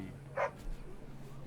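A single short dog bark or yip from a video game puppy, in Dragon Age: Origins, rings out briefly over a low steady background hum, followed by quiet.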